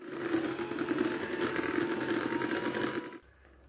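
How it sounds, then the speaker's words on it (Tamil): Ghee and sugar being beaten together for ghee biscuit dough give a steady, close mechanical whirring that runs for about three seconds and then cuts off abruptly into near silence. "நான் பீட் பண்ணிகிட்ருக்கேன்"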